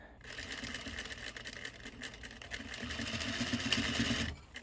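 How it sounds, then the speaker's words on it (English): A sewing machine stitches an invisible zipper onto a corded, welted pillow, a fast steady mechanical whir with rapid needle ticking that runs several seconds close by, then stops abruptly. "my needle is gonna stop right where the stitching starts on the zipper, and then I can back stitch"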